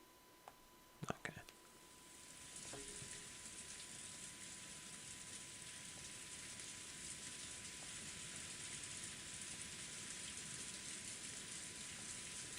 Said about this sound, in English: The rain is falling.